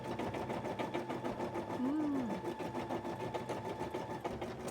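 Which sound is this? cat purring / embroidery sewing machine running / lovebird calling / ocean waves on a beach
embroidery sewing machine running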